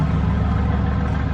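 A Lamborghini sports car fitted with an aftermarket exhaust rumbles close and loud in a deep, steady idle-like drone for a brief moment.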